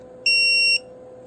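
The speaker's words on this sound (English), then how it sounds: "Buzzer alarm on." A steady two-tone electronic buzzer alarm from a CQV-SWR 120 SWR and power meter sounds once for about half a second, loud and close, over a low background hum.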